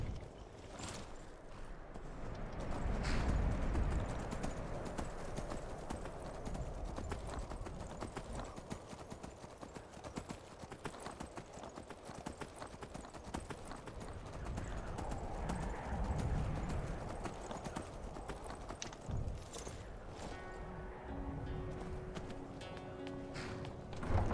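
Horse hooves clip-clop steadily on the ground in Skyrim, a continuous walking rhythm under game ambience and music, with an occasional faint whinny.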